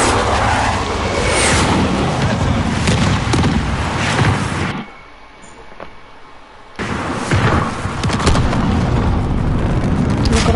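Airstrike in the Call of Duty video game: heavy, rumbling explosions roll loudly for several seconds, drop to a brief lull, then more booming blasts and debris follow, with no voices over them.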